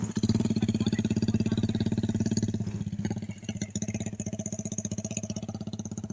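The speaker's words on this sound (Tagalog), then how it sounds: "may dumaan pa dito na motor" A motorcycle engine chugs in a fast, regular pulse close by as it passes, with a brief dip midway before the throbbing returns just as strongly.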